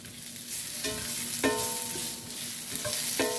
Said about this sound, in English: Now, I'm going to stir these around.